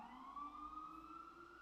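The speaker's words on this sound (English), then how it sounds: "Here we go, siren number 2." A siren wails in one long, steady rising tone, faint and distant, continuous for under two seconds with no voices.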